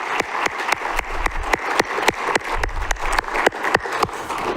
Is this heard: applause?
yes